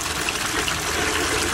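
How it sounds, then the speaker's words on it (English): Water carrying crushed, finely powdered gold ore washes steadily through a Gold Cube concentrator, a continuous close rushing gush with no pauses. "Just running it through the gold cube."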